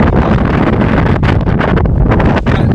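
Loud, strong wind roars and buffets the microphone continuously at sea by El Fraile, the concrete battleship island, with a constant rumbling blast and no letup.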